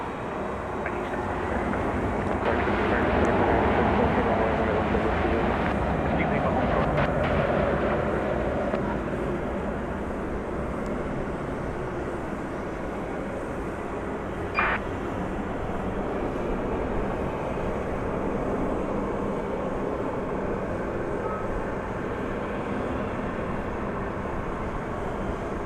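A Boeing 767-300ER at DFW Airport at night, bound for Ontario, California, makes a distant, rumbling jet roar that swells over the first several seconds, then settles into a steady, fainter drone.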